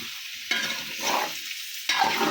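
Small boiled, peeled potatoes frying in a pan with pepper powder as a spoon stirs them, a loud sizzle broken by scraping stirring strokes that flare up near the start and again toward the end, with no talking.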